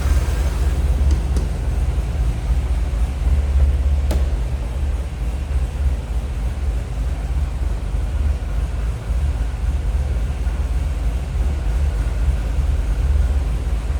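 A 2003 Chevrolet Corvette Z06 engine idling with a slightly lumpy cam, a steady low rumble at moderate distance, continuous and without talking, with a faint click early on.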